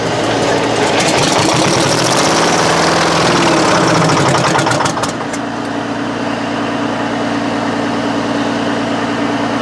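A Detroit 8V71 two-stroke diesel in a runaway after a cold start, roaring loud and steady up close with a dense, buzzing drone that changes pitch partway through and then holds a high, even howl.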